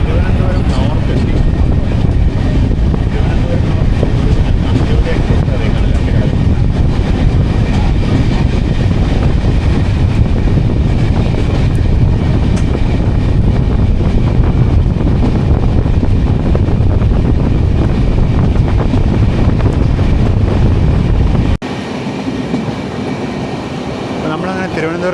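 A Jan Shatabdi Express with new LHB coaches running between Kozhikode and Thiruvananthapuram, a loud continuous rumble with heavy wind buffeting the microphone that drops abruptly near the end.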